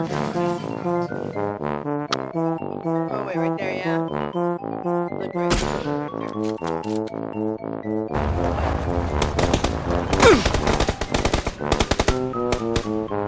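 Rapid automatic gunfire in the video game PUBG rattles on steadily in fast repeated bursts, loud and close, with a heavier volley of shots near the end and little talk.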